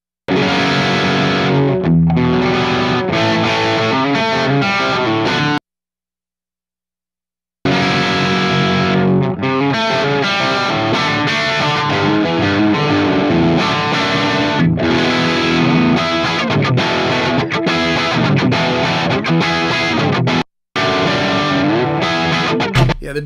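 Full mix with distorted, effects-heavy instruments played through a BAE 1073 preamp, loud and dense throughout, with a short silent gap near the start and a brief dropout late on.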